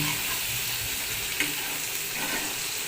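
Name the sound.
frying spice paste for shrimp dal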